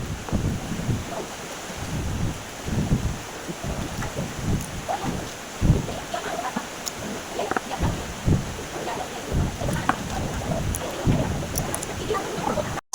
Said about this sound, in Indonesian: Di sini petirnya atau geluduknya kencang atau kuat-kuat banget suaranya guys.